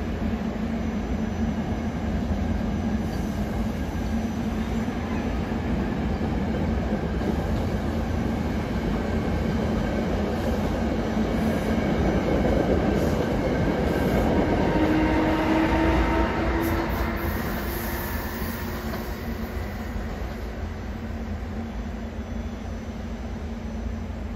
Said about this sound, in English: 6334, bound for West Trenton, just arrived with more push-pull equipment.